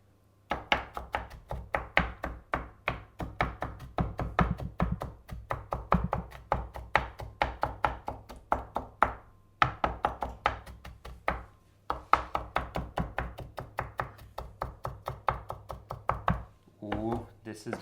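Onions being chopped with a knife on a board, a quick run of crisp rhythmic taps at close range, briefly pausing twice before resuming, with a voice speaking near the end.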